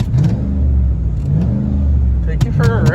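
A car engine revs hard, climbing toward about 7,000 rpm, loud and close throughout, with people talking over the engine noise.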